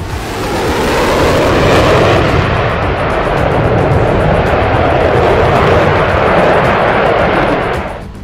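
An F-22 Raptor fighter jet roars past, a loud, sustained broadband jet rush that swells quickly, holds for several seconds and then cuts off, with no voices.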